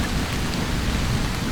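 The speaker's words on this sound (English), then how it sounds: "I think that's thunder" A rainstorm in Bhutan pours steadily and densely while a low thunder rumble rolls underneath throughout the brief stretch.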